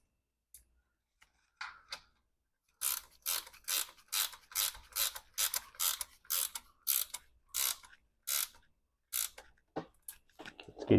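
A wrench ratchets a threaded plug tight on a BMW E36 M3 transmission or differential, giving a long run of evenly spaced metallic clicks, close and fairly loud, with a few scattered clicks before and after.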